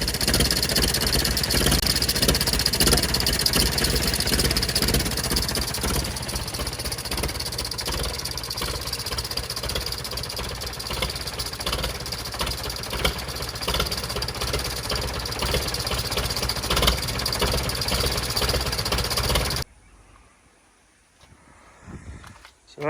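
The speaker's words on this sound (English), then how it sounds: "when I started it up, because this one does run, has a bit of an exhaust leak" An A414 tractor engine with an exhaust leak idles steadily and loudly close by for about twenty seconds, with a broadband rumble, then cuts to near quiet at the end.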